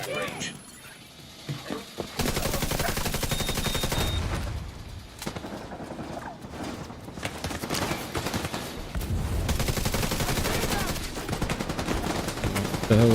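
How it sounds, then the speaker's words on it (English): Heavy automatic gunfire in The Division 2 PvP match, long sustained bursts of rapid shots with brief pauses between volleys, loud and close, with voices talking underneath. "Dude, stop shooting your gun."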